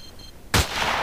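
A single loud gunshot from the Battlefield 2 video game on the Wake Island map, a sharp burst with a booming low thump that leaves a sustained noisy rumble afterward, with no voices.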